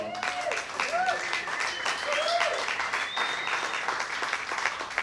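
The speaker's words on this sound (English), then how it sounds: "could you please give her a round of applause" Applause from the audience at World Cafe Live, a Philadelphia music club, fills the room after a performer is thanked, a dense sustained wash of clapping with some voices and tonal sounds mixed in.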